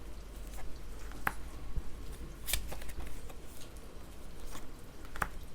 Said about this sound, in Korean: 추가 카드를 한번 뽑아보도록 할게요